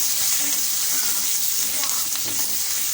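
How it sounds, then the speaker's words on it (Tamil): Ginger, green chillies and curry leaves sauté in a hot pan, giving a continuous, even sizzle with small crackles throughout. "இஞ்சி பச்சை மிளகாலாம் கொஞ்சம் வதங்கட்டும்"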